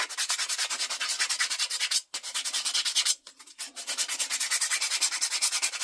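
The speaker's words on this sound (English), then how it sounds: "how much sanding you need to do and stuff" Close, steady back-and-forth hand sanding of a scrollsawn wooden Christmas ornament, rapid and rhythmic, with two brief pauses between strokes.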